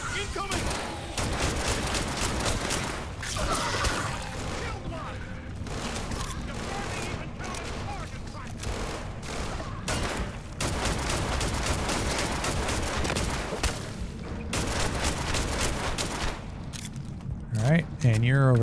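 Rapid bursts of gunfire from a weapon in the video game Starfield, dense and continuous, with booming shots layered over game sounds and someone talking throughout.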